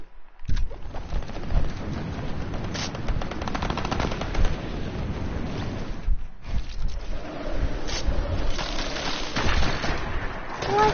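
Rapid bursts of gunfire crackle continuously from a firing pit, loud, rattling volleys and repeated shots layered over rough background noise, with a brief lull midway.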